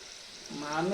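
Vada batter hisses and bubbles in hot oil over a wood-fired clay stove, a steady close sizzle joined halfway through by a low humming tone.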